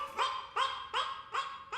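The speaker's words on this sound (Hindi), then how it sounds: "लग रहा है गली का कुत्ता है" A stray street dog barks five times in a steady, evenly spaced series, each bark sharp and fairly close, with no talking over it.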